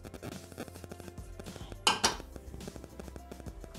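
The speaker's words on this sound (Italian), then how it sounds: "Riuniamo sul fondo del boccale con la spatola." A spatula scraping down the inside of a Thermomix (Bimby) bowl while making ricotta and cinnamon cream, quiet light scrapes and taps with two brief louder clinks in the middle.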